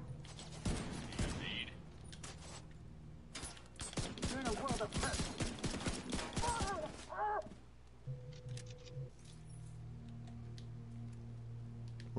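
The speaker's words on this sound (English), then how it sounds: "I'm trying to shoot them. But they're taking cover away from my bullets." Rapid gunfire in the shooter video game The Division 2: bursts of sharp, closely spaced shots in clusters through the middle, then quieter ambience with a steady hum, while players talk over the action.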